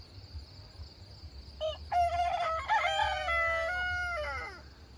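Two roosters on a farm, a young cockerel still learning his crow and an older bird named Rusty, trade crows; one drawn-out, wavering cock-a-doodle-doo rises clearly over a low background hum with no talking.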